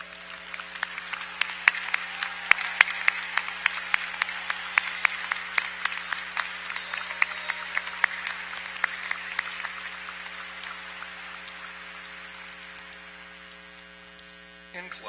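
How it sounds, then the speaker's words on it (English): Applause for veterans at a University of Tennessee at Chattanooga fall undergraduate commencement, scattered then steady clapping from a large hall audience over a constant electrical hum, gradually thinning and fading near the end. "please stand and accept our applause"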